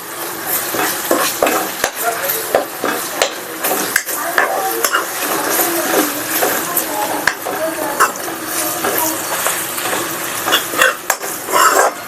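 Ginger garlic paste sizzles in oil in a pan while being stirred for chicken curry, a steady loud fry punctuated by scraping spoon strokes and metallic clinks against the pan, close to the listener.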